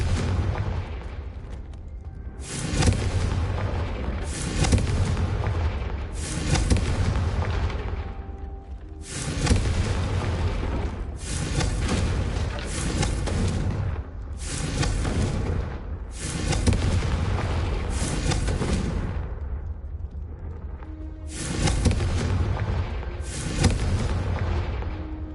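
Repeated fiery spell blasts from the Confringo curse in Hogwarts Legacy, a run of loud booming bursts each trailing into rumble, arriving every couple of seconds with brief lulls between them.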